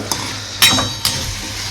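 Tomatoes sizzle in a hot pan for oyster gravy while a spoon stirs and scrapes them, giving a few sharp metallic clinks over a steady frying hiss.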